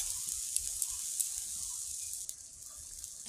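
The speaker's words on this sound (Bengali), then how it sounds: "মাছ ভাজছি তোমাদের দাদার জন্য, গরম গরম মাছ ভাজা, নোনা মাছ।" Salted fish frying in a hot pan, giving off a soft, steady hiss and sizzle with a few small crackles and pops, close but fairly quiet, with no one talking.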